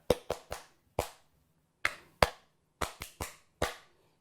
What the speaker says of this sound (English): So like this, double clap